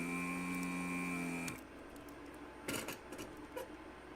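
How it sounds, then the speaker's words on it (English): An ultrasonic cleaner hums with a steady high whine and tonal buzz for about a second and a half, then cuts off, leaving quieter background with a few clicks and rustles. "Put the new caps in the ultrasonic cleaner"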